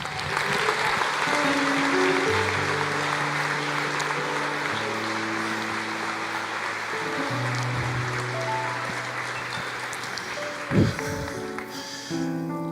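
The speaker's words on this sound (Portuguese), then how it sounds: "Aplauda mais." Sustained applause from a church congregation fills the space, a dense even wash of clapping with organ or keyboard tones held underneath, ending with a brief louder thump near the close.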